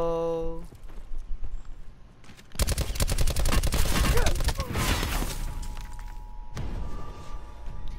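Gunfire in Call of Duty Black Ops 4, including pistol shots, erupts in a loud rapid volley of cracks mid-clip after quieter game sounds, then fades into lingering effects.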